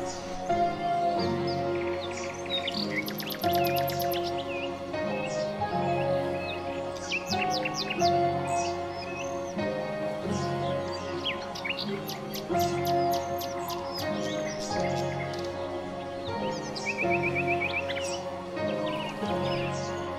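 Beautiful birds singing in a forest, with many overlapping chirps, trills and whistles layered over a steady, dense background of calls throughout.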